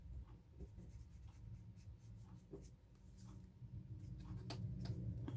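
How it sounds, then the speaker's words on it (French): Crayon or pencil scratches on a paper sheet while a flower is coloured in for a Mother's Day card. The strokes are quiet, close and continuous, with small taps and scrapes and no talk. "je colorie sur la feuille directement et ensuite, je viens découper"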